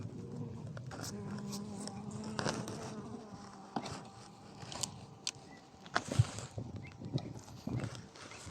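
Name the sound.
bees buzzing in a hive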